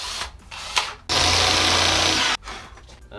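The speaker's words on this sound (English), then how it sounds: "that's the best way I've found of using a normal handheld drill, getting a nice straight hole, just bit at a time, seems to do the job" A normal handheld power drill bores a straight hole for a floating shelf, the bit stepped up to the final 12mm size; one steady, loud whirring burst of about a second and a half, with quieter handling noise before and after.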